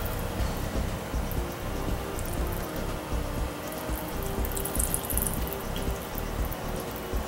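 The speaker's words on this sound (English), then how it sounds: "I'm just going to tilt the transmission a little bit just to drain some excess fluids" Transmission fluid from a tilted Ford 4R70W automatic transmission draining out in a continuous close trickle and patter, steady throughout with no talk.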